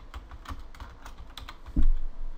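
Keys on a computer keyboard are tapped in a quick, uneven series of soft clicks, close and fairly quiet, ending with a heavier thump.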